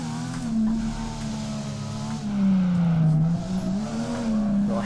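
Nissan 350Z drifting in the video game DRIFT21 with a handbrake pull: a steady engine drone bends down and back up as tires squeal through the slide, loud and continuous with no talking.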